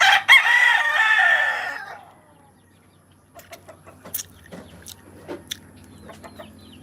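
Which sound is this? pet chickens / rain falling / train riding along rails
pet chickens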